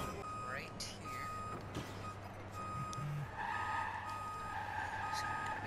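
Truck reversing beeps sound repeatedly while a truck backs up in the Watch Dogs 2 video game, steady electronic tones over engine rumble and game ambience, with a few other tones and noises layered in.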